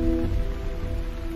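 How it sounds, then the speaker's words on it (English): Steady rain patters on a surface, a dense continuous wash of drops with a low rumble underneath, fairly close and even throughout. "The rain keeps falling on my head."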